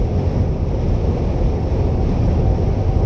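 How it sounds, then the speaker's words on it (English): Strong wind buffets a moving truck, a constant loud low roar of rushing air and road noise with no talk. "I've been fighting this wind all day long, and it's annoying"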